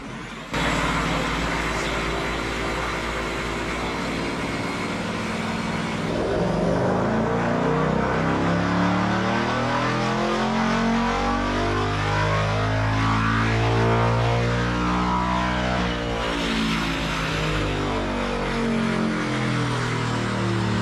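A Ford Mustang S650 making a baseline fifth-gear pull on a dyno: a loud, continuous engine roar climbs steadily in pitch for about twenty seconds with no one talking.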